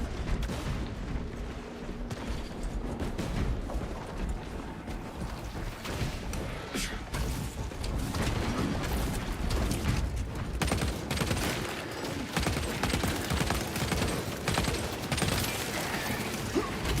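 Bolt carbine gunfire from a Space Marine 2 battle against a Tyranid horde, dense continuous bursts of shots and explosions blending into a loud, steady roar with faint voices underneath.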